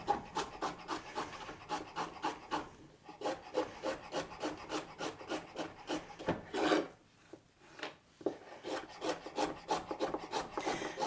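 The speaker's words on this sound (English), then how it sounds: "I have 2 more carrots that I'll just slice nice and fine for my soup and for my curry." A knife slices carrots into fine rounds on a cutting board for soup and curry, giving a steady run of close, crisp chopping taps that pause briefly midway and then resume.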